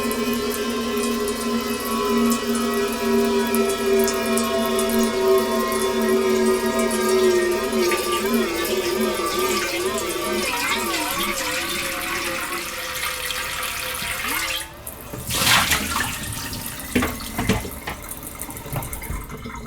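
Kitchen sink tap running into a metal pot, a steady close-up stream with ringing resonant tones that waver and shift as the pot fills, then sloshes and breaks up into irregular splashes near the end.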